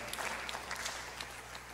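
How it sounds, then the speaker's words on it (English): A congregation at a church Bible study claps together, producing a brief, steady spatter of applause in a room with a low background hum. "If you want to clap,"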